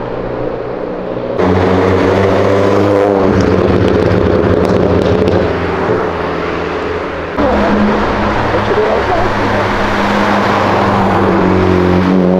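A Honda Civic Si sports car accelerates hard past on a city avenue, its loud engine revving in steady rising pulls with gear changes and a brief crackle.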